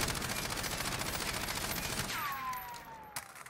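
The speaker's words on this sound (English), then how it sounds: "we're going to unload our four clips without trying to control the recoil" In Warzone, a gun fitted with a VLK optic fires a long, continuous burst of automatic fire, loud and steady, then stops abruptly, leaving a fading tone and a few faint clicks.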